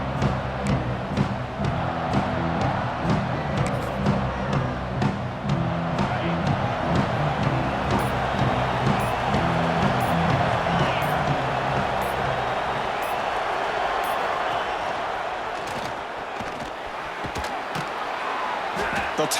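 A stadium crowd roars steadily in College Football 26 during a Mountain West title game, Boise State at Colorado State, a broad continuous wash of noise beneath ongoing play-by-play commentary.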